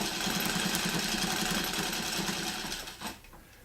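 A Wheeler and Wilson W9 sewing machine runs fast during free motion quilting, a close rapid rhythmic stitching chatter that holds steady and then slows and stops near the end.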